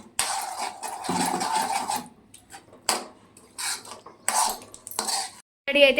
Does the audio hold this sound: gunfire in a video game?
no